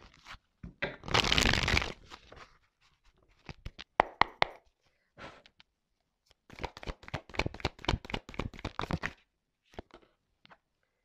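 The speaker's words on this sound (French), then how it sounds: "on va prendre encore quelques petites cartes là" Tarot cards being drawn and shuffled by hand, with a burst of riffling near the start and then a run of quick, close papery flicks and taps in short clusters, no talking.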